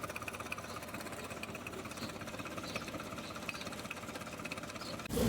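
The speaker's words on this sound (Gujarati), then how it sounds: "આ આપણું ટ્રેક્ટર છે" A tractor engine runs in a steady, low, rumbling chug that stays even and fairly faint throughout, then ends with a sudden louder burst of noise.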